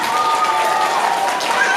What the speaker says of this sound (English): give them all a round of applause for making it up here to our stage